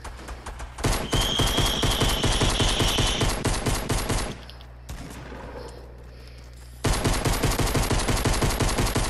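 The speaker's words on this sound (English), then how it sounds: "Why are you shooting me?" Rapid bursts of automatic gunfire in the Fortnite video game, loud and sustained, with a brief lull in the middle before the shooting resumes at full intensity.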